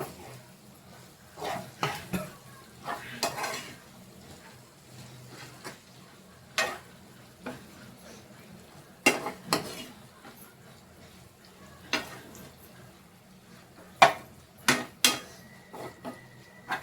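Chicken coated in chilli powder is stirred in a pan with a spoon, giving irregular clinks and scrapes against the metal over a faint sizzle, spaced out with short quiet gaps between strokes.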